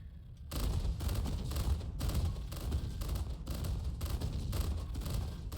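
Rapid gunfire blasts at turrets in the space game Star Citizen, a dense, continuous barrage of loud shots with heavy booming impacts, sustained for several seconds with no talk over it.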